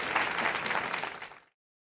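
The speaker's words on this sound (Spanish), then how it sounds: "Bueno, pues por favor, un aplauso para Gerald Martin y Dazo Saldívar." Brief audience applause for two biographers at the close of a literary talk, a dense wash of clapping for about a second and a half before cutting off abruptly.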